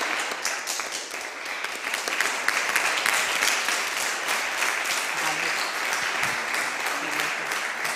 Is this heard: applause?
yes